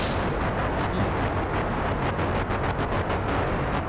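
Rocket launch in the video game Kerbal Space Program, a loud, steady, dense roar of engine thrust that fills the whole clip without letup.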